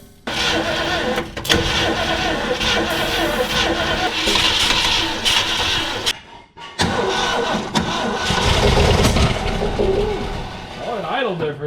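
Abandoned 1965 Ford Mustang being revived cranks and catches, its engine running loud and rough for several seconds, briefly dropping out near the midpoint before roaring again, with birds and voices audible around it.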